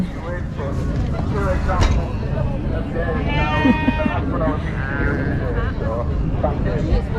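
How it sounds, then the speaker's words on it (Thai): Competing sheep bleat at an English summer country show, a wavering bleat rising above a loud, steady crowd murmur while someone talks close by. "อันนี้คือแกะเนาะค่ะแผนกของแกะ เขาก็จะเอามาแข่งกัน"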